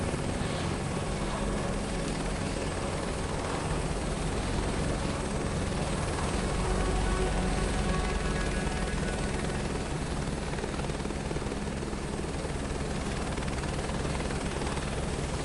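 An aircraft lands in the video game Microsoft Flight Simulator 2024 with a steady, continuous engine and rotor drone that stays loud and unchanging throughout.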